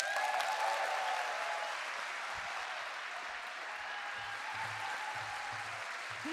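An audience at a Nelson Mandela lecture event applauds in a sustained, even wave of clapping that fills the hall, with faint voices underneath toward the end.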